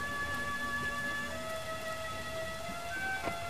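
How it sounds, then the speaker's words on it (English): Corrosive rain falls steadily in a video game, a constant broadband hiss of rain with faint sustained electronic tones layered over it, no voices. "You cannot go out in that rain."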